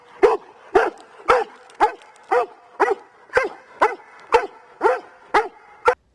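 A single excited dog barks loudly and repeatedly, about two sharp barks per second in a steady rhythm, close by with no talking.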